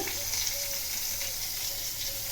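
Bitter gourd pieces fry in hot oil with panch phoron, giving a steady, close, even sizzle with no voices over it.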